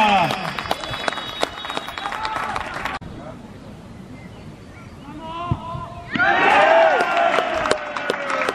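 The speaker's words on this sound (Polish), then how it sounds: "Wielkie brawa!" Spectators at a Polish amateur football match between Piast Cieszyn and Błyskawica Kończyce Wielkie clap and cheer, a loud burst of applause rising late after an announcer speaks over a public address system.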